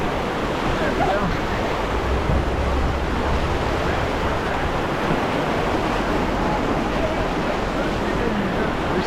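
Whitewater of the Truckee River rushes steadily around a raft surfing a small wave in an eddy, a dense, continuous roar of splashing water close by with wind buffeting the microphone throughout.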